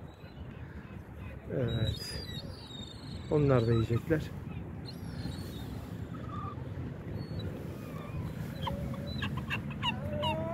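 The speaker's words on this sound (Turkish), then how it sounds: "Şimdi de martılar tabii ki" Several harsh seagull cries ring out over steady outdoor background noise at Bostancı beach, with brief speech partway through.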